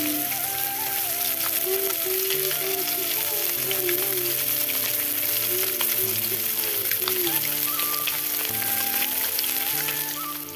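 Pieces of rohu fish fry in a pan with a steady, close sizzle and crackle lasting throughout, while tonal background sounds and faint voices drift in and out.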